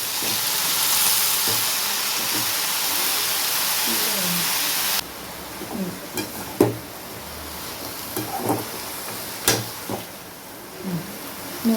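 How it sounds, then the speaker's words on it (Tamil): Coriander, coconut, tomato and onion sautéing in oil, with a loud, dense sizzle and hiss at first, then a quieter fry broken by sharp scrapes and clacks of a spoon stirring the pan. "கொத்தமல்லி தலை தேங்காய் தக்காளி வெங்காயம் எல்லாம் போட்டு நல்லா எண்ணெய் ஊற்றி வதக்கியிருப்பேன்"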